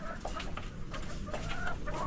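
Backyard chickens being raised at home cluck softly in a short, quiet burst of overlapping calls, fairly faint against a low background hum.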